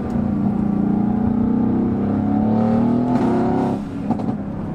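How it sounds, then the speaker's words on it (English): Tuned Mercedes-AMG GT S with a RENNTECH-modified 625 bhp V8 accelerating hard, its loud engine note climbing in pitch up close, then easing off at the upshift with a few sharp exhaust crackles. "So you get the V8 rasp and thunder to it. Then you get all of the crackles on the upshift"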